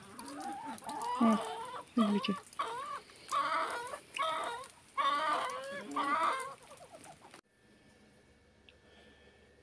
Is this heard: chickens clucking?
yes